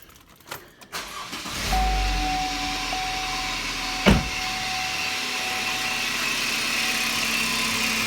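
A 2015 Chevrolet 2.5 Ecotec engine cranks briefly and catches, then settles into a steady, fairly loud idle that runs on alone, with a short knock partway through.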